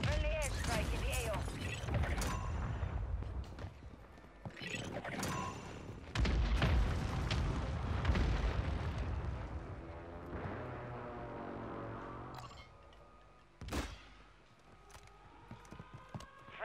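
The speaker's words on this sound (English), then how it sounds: "Friendly airstrike in the AO." Booming airstrike explosions and scattered gunfire in Call of Duty Warzone, heavy rumbling blasts early, fading into quieter mechanical clatter with a sharp single boom near the end, under game voice announcements.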